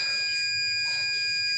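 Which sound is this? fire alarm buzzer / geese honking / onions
fire alarm buzzer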